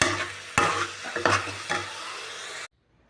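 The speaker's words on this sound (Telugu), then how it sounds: "పచ్చిమిరపకాయలని, పొట్లకాయ ముక్కల్ని దోరగా వేయించుకోవాలి." Green chillies and ridge gourd pieces fry in a pan with a steady sizzle, punctuated by a few sharp stirring scrapes and knocks, close and loud, before cutting off abruptly into near silence.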